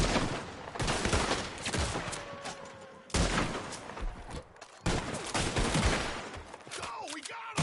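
Gunfire in Red Dead Redemption 2, dense volleys of shots and rapid bursts in three loud waves with brief lulls, shouts mixed in amid the shooting.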